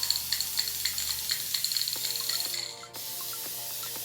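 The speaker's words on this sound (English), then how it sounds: "I probably spray more than necessary just for good measure" A spray can hisses in short repeated bursts over sola wood flowers, close and fairly quiet, followed by a brief thud and a low steady hum.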